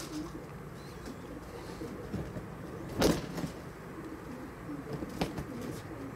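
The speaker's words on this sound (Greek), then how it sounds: "Το Περιστέρι είναι από πάνω ακριβώς. Και φτερουγάει" Pigeons overhead in a loft area, a sharp burst of wing flapping near the middle with soft cooing and bird calls, over a steady low outdoor hum with light traffic in calm, windless weather.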